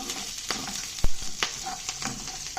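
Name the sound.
chillies and garlic frying in pan for green peas curry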